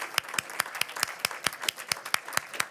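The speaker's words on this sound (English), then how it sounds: "Think you can clap." An audience at an award ceremony claps in a sparse, fairly regular rhythm of sharp individual claps, moderately near and not very loud, with no talk over it.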